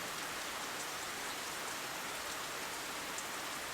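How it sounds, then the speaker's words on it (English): Steady rain patters against a window in the video game World End Syndrome, a dense, even hiss of drops that stays constant and fairly loud throughout, with no voices. "the sound of rain against the window grows steadily louder"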